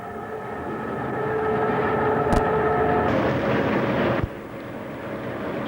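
An FS E.646 electric locomotive hauls a 1990s direct train on the Udine–Trieste line at full power while speeding up. A loud, steady motor drone with tonal whine is broken by one sharp click, then eases slightly near the end.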